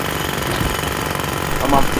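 A demolition drill in the game Demolition Company makes a loud, rapid, continuous hammering rattle, and a person talks over it.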